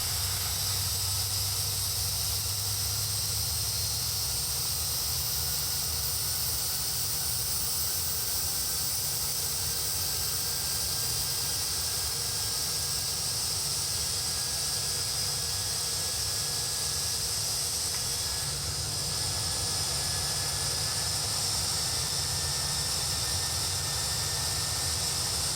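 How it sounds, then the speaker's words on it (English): A jet airliner engine starts up in the X-Plane 11 flight simulator, a steady broad roar and hiss that holds through the whole stretch, with a faint rising whine beneath it and no talk. "That sounds like a successful engine start."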